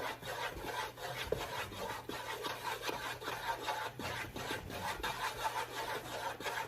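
Spoon stirring melting marshmallows in a pot for crispy rice bars, a steady scraping, rubbing rhythm that keeps going close by with no talking.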